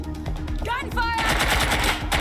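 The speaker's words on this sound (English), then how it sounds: "gunfire!" Gunfire in Watch Dogs Legion, rapid bursts of shots rattling through a busy, noisy game scene with brief electronic tones layered over the clatter.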